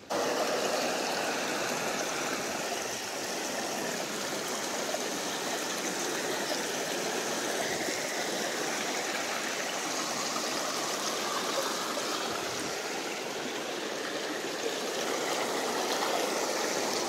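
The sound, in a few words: creek water flowing over rocks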